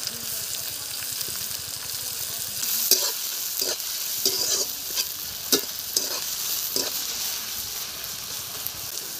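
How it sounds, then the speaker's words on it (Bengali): Onions drop into hot oil with tempered whole spices in a village kitchen, giving a steady bright sizzle with intermittent stirring scrapes, close and continuous. "ফোড়ন দিয়ে দিলাম, দিয়ে আমি পেঁয়াজটা তুলে দিচ্ছি।"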